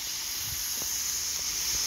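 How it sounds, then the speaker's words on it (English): Carrots and peppers sizzle in hot oil on a Firedisc cooker, a steady close, even hiss with no talk over it. "Hear that sizzling again."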